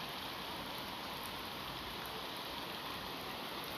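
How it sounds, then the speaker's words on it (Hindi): Morning rain falls on a village in a steady, soft, even hiss with no distinct drops or pauses, faint and continuous throughout. "आज सुबह सुबह का मौसम कितना ठंडा है, बारिश हो रही है हमारे गांव में।"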